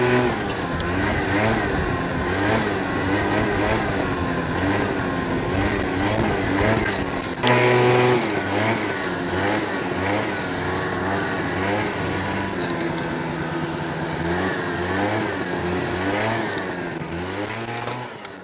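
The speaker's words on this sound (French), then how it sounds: "Faire une petite roue arrière là, on va voir ce que ça donne." A stunt motorcycle revs hard during a wheelie, its engine droning loudly and continuously with rising and falling pitch and a sharp surge partway through, close and alone.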